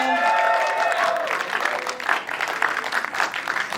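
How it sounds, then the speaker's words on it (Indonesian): A crowd at a film press conference breaks into loud, sustained applause that fills the room from start to finish. "Dan beri tepuk tangan yang meriah"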